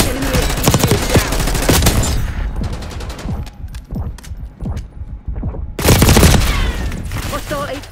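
Bursts of automatic gunfire and rapid shots in a Call of Duty Black Ops 6 match on the Rewind map, loud and close, with a brief lull of scattered shots before another heavy volley.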